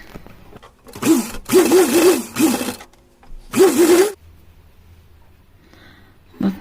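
A sewing machine runs straight stitches through cotton cloth in three separate motorized bursts, loud and close, with quiet pauses between them and a brief start at the very end.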